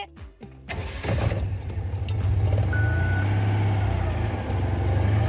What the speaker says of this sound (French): Alors, je vais la démarrer.